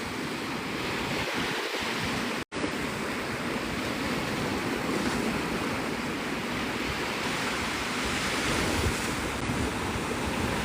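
Ocean waves break on Navarre Beach, Florida, at sunrise, making a continuous loud roar of surf and wind with no voices and one brief dropout early on.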